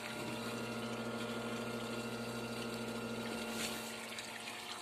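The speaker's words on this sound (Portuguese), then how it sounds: "agora ligou a bomba. Acabou de ligar a bomba." A water pump runs steadily, filling a tank in a venturi aeration filtration setup, giving off a constant close mechanical hum with rushing water and no voices.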